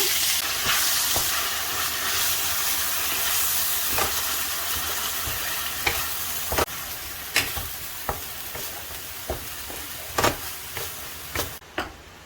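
Spice paste for fish in red spicy sauce frying and being stirred in a pan, a steady sizzling hiss broken by sharp spatula scrapes and taps that grow more frequent toward the end, close and alone without talk.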